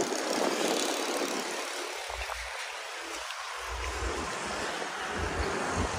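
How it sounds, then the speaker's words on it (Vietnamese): Waves roll across a vast open sea in a continuous, loud rush, mixed with wind buffeting and a low engine rumble underneath. "Biển mênh mông."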